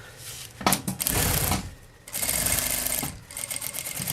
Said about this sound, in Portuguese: Eu não costuro em cima da preguinha, eu costuro do ladinho.